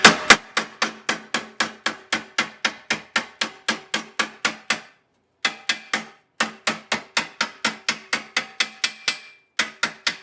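Sharp, evenly spaced hammer blows ring out against sheet metal being bent over to a 90-degree fold, dozens of close, loud metallic strikes in steady runs broken by two brief pauses.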